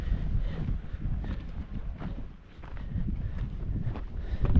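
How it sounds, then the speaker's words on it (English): Gusty wind buffets the microphone on a trail, a continuous low rumbling roar that rises and dips, with faint scuffing sounds mixed in. "it's windy"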